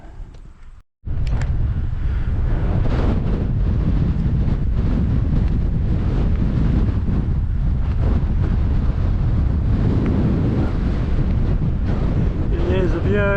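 Strong wind belts up a harbour on a hillside walk in the Port Hills, roaring steadily and close against the microphone for most of the stretch after a brief gap, with faint talk buried underneath.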